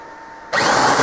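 A low hum gives way to the sudden loud whine of a large high-torque power drill biting into a metal lathe bed casting and grinding steadily.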